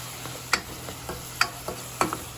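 A spoon stirs squid adobo in a pan just after black pepper goes in. Sharp scraping strokes repeat every half second or so over a low, faint sizzle, close up.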